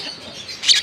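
Pet birds kept in a home give a short burst of bright, high chirps near the end, rising briefly over a soft background hiss.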